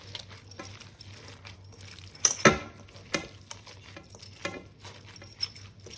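Garlic going into a hot frying pan and being stirred, a soft background sizzle broken by a few sharp scraping and clinking utensil sounds, fairly quiet and close.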